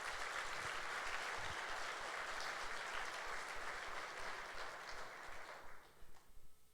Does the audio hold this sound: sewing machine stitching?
no